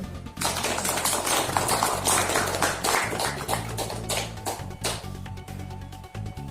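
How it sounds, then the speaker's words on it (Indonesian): Applause from an audience at a declaration event for Gerakan Sukarno Muda, dense and sustained clapping that fills the whole stretch and stays loud throughout. "Ya, kita berikan aplaus juga."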